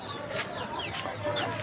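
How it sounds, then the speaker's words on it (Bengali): Farm hens cluck close by in a short run of repeated clucks and soft calls, heard alone with no talk. "এখানে আরেকটা মুরগি, লাস্ট আরেকটা মুরগি"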